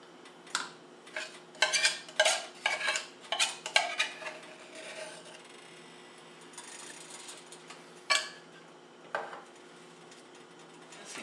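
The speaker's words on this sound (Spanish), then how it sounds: "Tenemos que ir moviendo ya que echamos la leche. Que no se vaya a pegar en la parte de abajo." Spoon scraping and clinking against a pot while stirring arroz con leche with milk, a quick burst of clatters followed by a few sparser knocks and a low steady hum.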